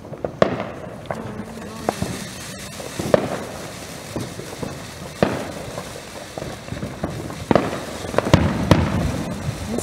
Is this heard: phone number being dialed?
no